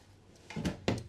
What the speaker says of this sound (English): Tons of drawers right here. These are all pretty much the same, so I'll just open one more.